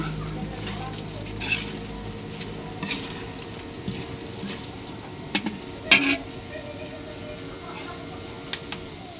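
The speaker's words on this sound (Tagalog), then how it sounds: "Nagpiprito ako anak ng kikiam." Kikiam fries in a shallow layer of cooking oil, a soft continuous sizzle broken by a few sharp pops and clinks, while a person talks over it.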